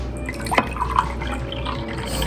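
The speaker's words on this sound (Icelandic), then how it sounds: "Ég ætla að hella vatn í bæði glösin" Water trickles into a drinking glass in a short, steady pour, with a couple of brighter splashy peaks near the middle and constant background hiss underneath.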